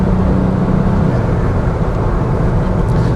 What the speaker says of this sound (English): You can probably hear we've got a bit more whooshing and gushing from under the bonnet.